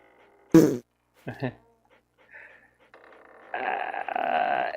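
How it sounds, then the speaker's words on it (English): A cartoonish fart from a character in a 2D indoor video game rings out sharply near the start, followed by short bursts and a sustained buzzy tail of game sound effects. "Until I fart."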